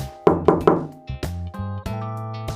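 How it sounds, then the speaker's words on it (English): Three gentle knocks on an apartment door, crisp and evenly spaced, followed by soft sustained musical tones with a few more quiet thumps. "there was a familiar knock at the door"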